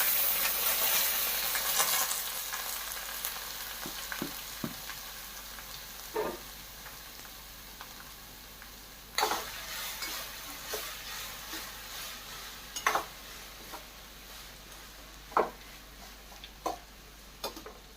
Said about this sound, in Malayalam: വാഴപ്പിണ്ടി ചെറുതായിട്ട് അരിഞ്ഞതാണ്, അത് നമുക്ക് ഇതിലോട്ട് കട്ട് ചെയ്ത് കൊടുക്കാം